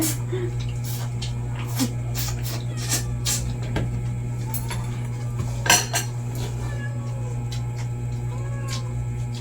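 Dishes and cutlery clink and clatter in scattered bursts as dishes are cleared and stacked, over a steady low hum, with a cat meowing faintly and voices in the background.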